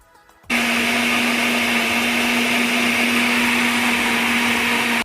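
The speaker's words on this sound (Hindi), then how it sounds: "तो बस हनी डाला मैंने और करूँगी ब्लेंड ब्लेंड ब्लेंड" A blender whirs loudly, mixing a smoothie of milk and honey, starting abruptly after a brief quiet moment and holding a steady high-pitched motor drone for several seconds.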